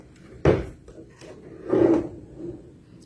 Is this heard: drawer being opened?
yes